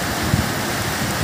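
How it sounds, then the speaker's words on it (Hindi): Heavy rain pours during a hailstorm, a dense, close, continuous hiss with a brief thump. "ये देखिए बारिश"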